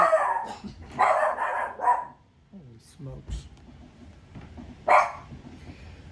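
Dog barking in a house, a few sharp barks in short bursts, the loudest near the start and another burst near the end, with a person talking between them.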